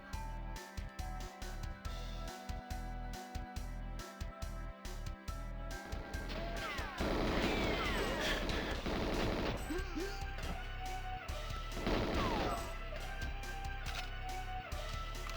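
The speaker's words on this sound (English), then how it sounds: "they're shooting me from that hut over there" Gunfire comes from a hut in GoldenEye 007 on the N64. A series of separate sharp shots early on gives way to dense bursts of rapid fire and clattering impacts over steady game music.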